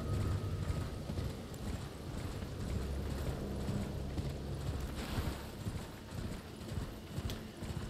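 Horse hooves clip-clop in a rapid, steady galloping rhythm through Elden Ring gameplay on the Bellum Highway, continuous and fairly loud throughout with brief whinny-like hints and no talking.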